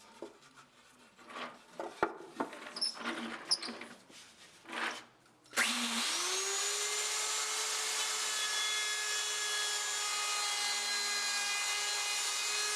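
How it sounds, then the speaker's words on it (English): Excess top wood trimmed off a guitar body during building: light handling and tapping noises, then a power tool starts and runs as a steady, loud, high whine to the end. "the first thing we have to do is trim off the excess top wood"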